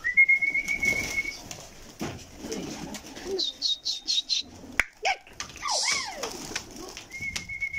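Pigeons coo and call in short bursts close by, with a few wing flaps and thin whistling tones mixed in; no one speaks.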